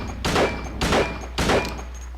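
Three heavy gunshots spaced about half a second apart, loud and close, from the game Silent Hill 2, with no talk over them.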